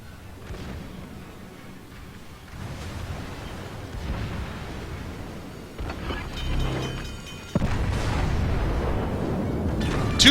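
Naval artillery shells slam into a ship in the World of Warships game, a dense run of heavy booms and rumbling impacts that keeps building, with sharp blasts near the end.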